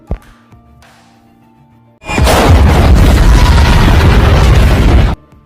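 A loud, sustained roaring explosion in Minecraft erupts after a quieter rumbling lead-in, holding for about three seconds before cutting off abruptly.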